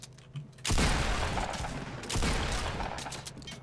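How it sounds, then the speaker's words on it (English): A video game firefight: a short burst of rapid gunfire, then a second sustained volley, loud and close, with quieter moments before and between. "Multiple shots, still no kills."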